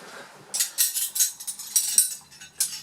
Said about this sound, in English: Cutlery is nice and heavy, or it can be metal and light.